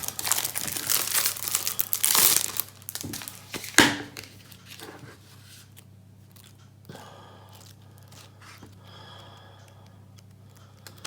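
A cardboard box for a new Royal Enfield Interceptor 650 motorcycle's accessories is opened, giving a burst of crinkling and rustling for a few seconds and a sharp crunch, then only a faint low hum remains.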